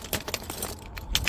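Keys jangle in a close, busy rattle for just over a second, a big ring of keys shuffled repeatedly while hunting for the right key to a Freightliner Cascadia truck.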